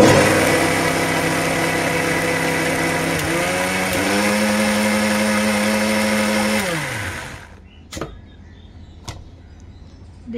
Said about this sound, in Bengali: লাস্ট বারের মতন আরেকবার মিলিয়ে নেব মিক্সিটা চালিয়ে।